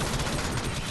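Rapid gunfire from the top-down shooter Alien Swarm, a dense, continuous burst of game weapon shots filling the short moment at steady loudness with no talk over it.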